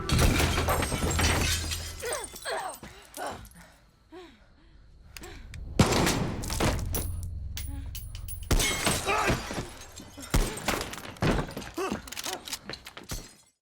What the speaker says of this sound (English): I'm taking the shot.